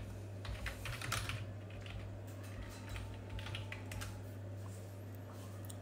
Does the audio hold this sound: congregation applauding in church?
no